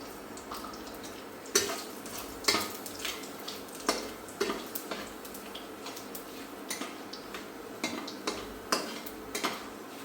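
Whole spices (cumin, dried chili, bay leaf and cinnamon) frying in a pan for a thin country-chicken curry, with repeated clinks and scrapes of a spoon stirring against the pan over a low steady sizzle, no talking.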